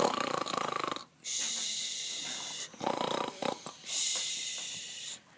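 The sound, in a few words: snoring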